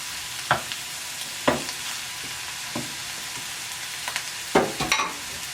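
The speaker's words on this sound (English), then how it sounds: "I'm going to let this saute for a few and then I'll be right back" Food sautés in a single pan while cooking a stuffed chicken dish, giving a steady close sizzle broken by occasional clinks and scrapes from a stirring utensil.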